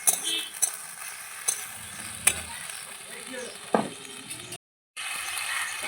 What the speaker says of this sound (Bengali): হ্যাঁ, মশলাটা ভাজা হয়ে যাবে